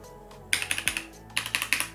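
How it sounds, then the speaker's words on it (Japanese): Fast typing bursts on a Keychron K2 mechanical keyboard with an aluminium frame, with crisp, close key clicks in two quick clusters separated by a short pause. "うわ、このタイピングの音もたまらん。"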